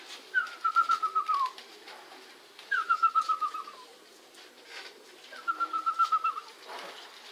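Three repeated pigeon calls, each a short run of rapid pulsing notes, spaced a couple of seconds apart over faint background noise.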